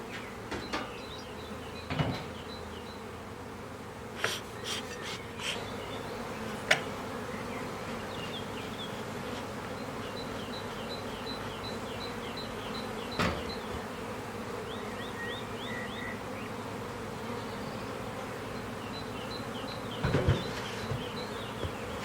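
A dense steady buzz of many honey bees swarming around an opened hive colony, close and continuous, with occasional sharp knocks and clicks of hive equipment being handled.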